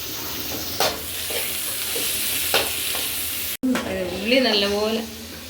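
Onion with star anise, cinnamon and ground cumin and cardamom frying in a pan for liver fry, a steady close sizzle with scraping stir strokes throughout and a short break near the end, no talk.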